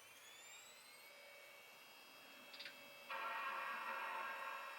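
A Power Mac G4 Sawtooth boots through its weak, thin built-in speaker: a faint steady whine gives way to a brief flutter, then a louder bright startup tone that holds to the end.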